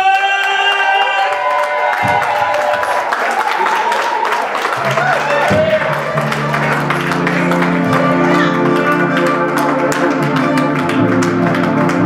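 A crowd at the Ernest 55 Celebration breaks into loud, dense applause and cheering. The clapping carries throughout, with a band playing sustained notes beneath it and a voice speaking over the noise.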